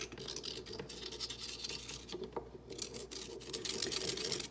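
A screwdriver scrapes white calcium deposits off a small rubber gasket from a Ninja Coffee Bar, giving a continuous close scratching and rasping that swells louder toward the end.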